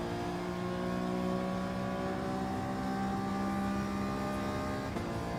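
A race car engine in Gran Turismo 7, racing at Fuji Speedway in a Nations Cup event, drones loudly and steadily under acceleration, with sustained whining tones and no pauses.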